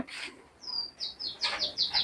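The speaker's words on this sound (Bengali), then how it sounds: "এটা হচ্ছে পাখির খাঁচা। এখানে সুন্দর সুন্দর পাখি দেখা যাচ্ছে।" Small birds in an aviary cage at an outdoor recreation centre in Bhuapur, Tangail, give a run of bright, quick chirps, repeating rhythmically at moderate volume.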